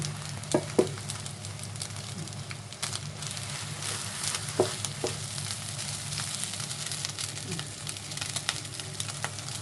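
Pork stir-frying in a wok for seafood fried rice gives a steady, close sizzle throughout, with a few sharp clicks and scrapes from the spatula against the pan.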